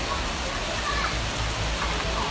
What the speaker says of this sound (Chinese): 现在又下雨，好无奈